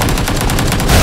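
Rapid automatic gunfire from PUBG rattles loud and close in a fast, even burst of about a dozen shots across one second, ending in a heavier thud.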